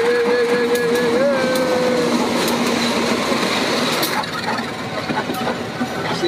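Majapahit passenger train rolling past at a signal, a steady rumbling wash of rail noise with a drawn-out wheel squeal early on and people talking over it throughout.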